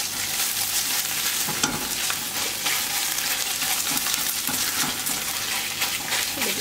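Onions sauté in a pan with pepper paste and tomato paste, giving a loud, continuous sizzle with intermittent scraping stirs and soft clinks, close and unbroken throughout.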